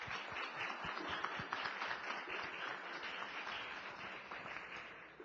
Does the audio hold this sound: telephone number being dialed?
no